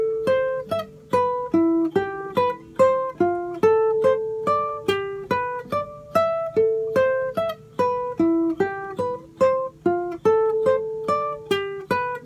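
An acoustic guitar picks a melodic phrase from a song, single plucked notes in a steady, even rhythm with each note ringing briefly, played alone and close without any talking.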